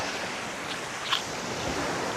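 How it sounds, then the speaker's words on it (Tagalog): Rough sea at a Batangas beach resort in the early morning, with waves rolling in and breaking. It is a steady, fairly faint wash of surf and wind noise with no voices. "Nagwawala yung dagat."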